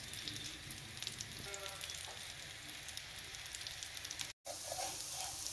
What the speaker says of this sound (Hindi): टिकियों को हमको मध्यम आंच पर ही सेकना है।